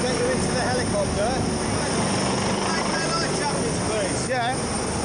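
A rescue helicopter roars steadily throughout, its loud rotor and engine noise constant and close, with faint voices beneath it.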